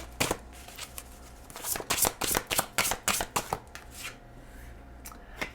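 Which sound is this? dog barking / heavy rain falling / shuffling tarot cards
shuffling tarot cards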